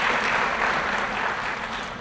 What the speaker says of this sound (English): Another round of applause for Carrie Cobb.